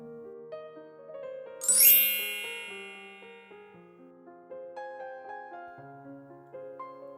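A bright, ringing bell ding strikes once and fades slowly over soft, melodic tinkling tones that continue alone.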